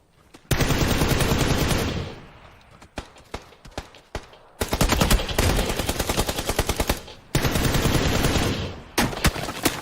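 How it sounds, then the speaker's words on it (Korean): Rapid automatic gunfire in PUBG on Xbox One during a duo match, loud close bursts of sustained fire broken by a pause and scattered single shots, then another long burst and short trailing volleys. "딴 애들 쏜다."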